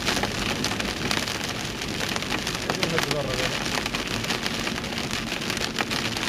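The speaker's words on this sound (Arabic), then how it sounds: "قوة مطر يا شاب،" Heavy rain pours down steadily in a thunderstorm with hail on a road, a dense, continuous roar of water hitting surfaces that stays loud and even throughout.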